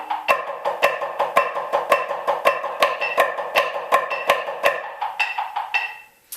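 Snare drum on a drumline exercise built on inverted flam taps, sharp struck hits in a steady even rhythm with accented doubled strokes, close and loud, ending with a few scattered final taps before it stops.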